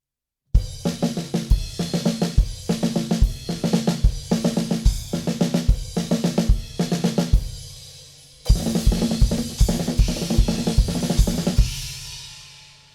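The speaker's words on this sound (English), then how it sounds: "I'm going to place the accents on crash cymbals with a bass drum underneath it." Drum kit playing repeated five-stroke roll fills, each ending in a crash cymbal accent over a bass drum hit, in a steady rhythm through about seven bars, then a sustained crash ringing out, loud and close with no talking.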